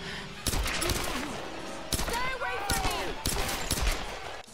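Gunshots in a Tomb Raider game crack out as several sharp, loud bangs spaced unevenly over a few seconds, mixed with game effects and some voice activity.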